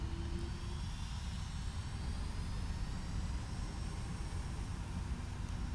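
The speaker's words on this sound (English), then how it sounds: "Jetset 241 taking off runway 27." Boeing 757 jet engines at takeoff thrust in a flight simulator, a steady loud low roar with a thin high whine, continuous and unchanging.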